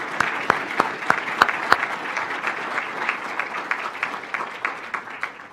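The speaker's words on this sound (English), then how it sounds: "all these people, a good round of applause?" Applause from a crowd gathered for a university campus collaboration announcement, opening with several sharp close claps before settling into a steady, fairly loud patter of many hands.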